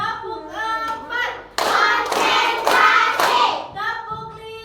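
A class of children claps hands together in rhythm in a classroom, close and lively. The clapping comes in loud bursts, mixed with a leader's chanted count and the children's chanting.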